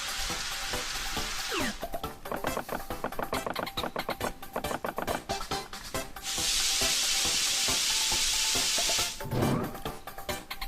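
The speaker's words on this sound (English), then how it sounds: "let's go ahead and cook up a mushroom" Sizzling pan-frying of a mushroom in the Paper Mario: The Thousand-Year Door video game, a bright hiss swelling and fading in bursts over rapid rhythmic clicking and stirring sounds, with a steady steam-like rush in the middle.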